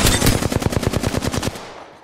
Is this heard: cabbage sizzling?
no